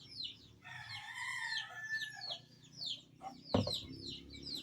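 Backyard chickens and ducks being fed, with a rooster crowing and hens clucking close by, overlapping calls rising and falling, and a sharp knock near the end.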